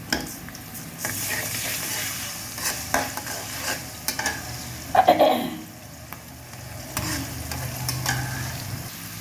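Garlic sizzles and fries steadily in a pan with green chilies, with stirring scrapes throughout and a brief louder burst midway, while shrimp, beans and cauliflower cook.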